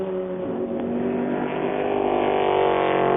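Panoz open-roof race car at the 1999 Le Mans 24 Hours, a loud engine holding a steady high-revving drone that climbs slightly in pitch as it builds over a few seconds, heard close without any talk.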